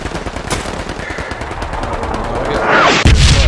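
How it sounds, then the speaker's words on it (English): Machine gun fire in the World War II shooter game Hell Let Loose, rapid rattling bursts of close gunfire with a louder blast near the end. "Get some MG fire on that fighting position down there."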